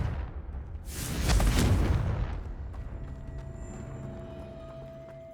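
A Confringo blasting spell in Hogwarts Legacy goes off as a loud, close explosive burst with a heavy low boom that swells and then fades into a lingering rumble.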